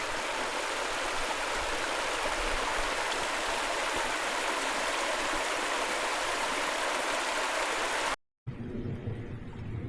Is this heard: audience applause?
no